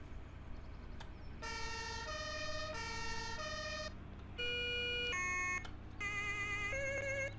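An ambulance siren in the farming game Landwirtschafts-Simulator 17 wails in loud stepped two-tone bursts, switching between several patterns with brief gaps, all alone and close up.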